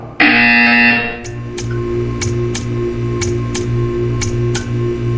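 A buzzer in the video game Portal 2 sounds loud and close, followed by a steady run of sharp, evenly spaced ticks over a low hum.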